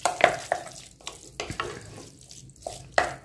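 Carrot halwa being stirred in ghee in a pan, with soft sizzling and several sharp scraping clicks of a spoon spaced irregularly, close and fairly quiet.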